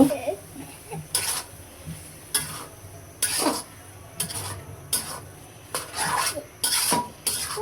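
Papaya fries with onion and green chili for a mashed papaya bhorta, as a spatula scrapes and clinks against the pan in repeated strokes over a soft sizzle.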